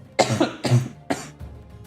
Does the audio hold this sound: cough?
yes